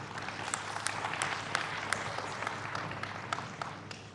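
A lecture audience claps together in a faint, dense patter heard from a distance, a steady wash of hands lasting the whole stretch.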